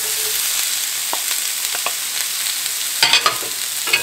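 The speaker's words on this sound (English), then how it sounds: "I'm going to throw my sausage in there with it" Sausage for a Zatarain's one-pot jambalaya sizzles steadily in a pot over medium heat, a constant frying hiss with a few soft stirring scrapes and a brief louder clatter near the end.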